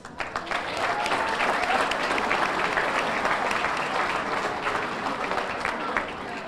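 An audience at the West Milford High School Athletic Hall of Fame induction applauds the bagpipers, dense, sustained crowd clapping that swells quickly and holds steady, with faint voices mixed in.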